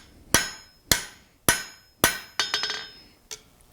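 A hammer strikes metal to bend a small forged holdfast piece, sharp ringing blows landing roughly every half second, then a quick burst of lighter taps and one final hit.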